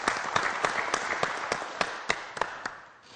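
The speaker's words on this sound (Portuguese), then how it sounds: "Mas antes, vamos aplaudir a Ivonita!" Audience applause at a talk by a criminal lawyer, a short burst of scattered clapping with several sharper claps standing out, fading toward the end.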